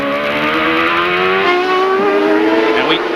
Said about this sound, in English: the engine sounds strong and smooth